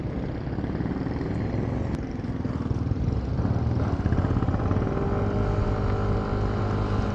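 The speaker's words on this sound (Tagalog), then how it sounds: "Ganda ng tunog ng makina mga tuds." A brand-new 2026 Yamaha Mio Gravis version 2 scooter engine running while riding, a loud, steady droning hum with continuous rumble and wind, no voices.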